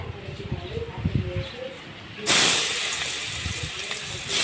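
Chopped onion drops into hot oil in a pan, bursting into a loud, steady sizzle after a stretch of quieter kitchen sounds, for a Bengali fish-head curry.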